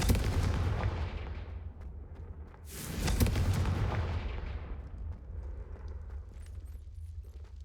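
A Confringo fire spell from Hogwarts Legacy bursts in a loud, booming blast that swells mid-clip and rolls off into a long rumbling tail over a dense low drone.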